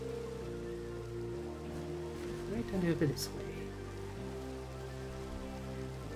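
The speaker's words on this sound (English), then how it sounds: "Damn rain! Stop already!" Rain falling in the video game Minecraft, a steady soft hiss that runs the whole time beneath someone talking and low tonal background sounds.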